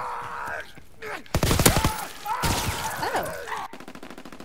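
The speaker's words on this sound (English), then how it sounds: "The shotguns in this game are kind of overpowered." Loud, sharp blasts of shotgun fire in a video game, a few heavy booming shots with sweeping effects between them, close and dominant, while a player's voice briefly exclaims over the action.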